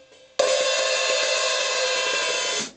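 A loud, sustained wash of sizzling metallic open hi-hat noise begins abruptly and rings steadily for over two seconds before cutting off, with faint rhythmic hits underneath, in a rock beat.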